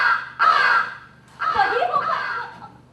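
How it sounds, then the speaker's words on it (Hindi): Two harsh caws from a crow, the second drawn out and ragged, with quiet pauses around them. "और एक कौवा भी था।"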